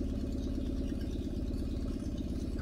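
A Minimax 1100r ultralight aircraft engine runs at a steady idle, set too high, with a rapid, even mechanical clatter and throb heard close and alone at a moderate level.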